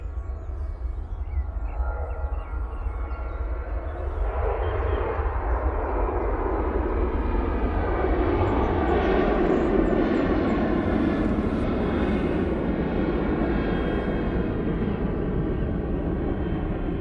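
An airliner bound for Amsterdam takes off in fog at Manchester Airport during low-visibility operations, its engine roar swelling from a distant rumble into a loud, sustained rolling thunder.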